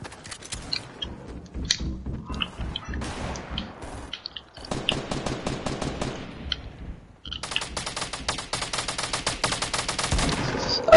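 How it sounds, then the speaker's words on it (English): A minigun and other gunfire in a video game: rapid bursts of shots that grow into dense sustained firing toward the end, fairly loud, with no voices. "I got rockets coming to me and a minigun."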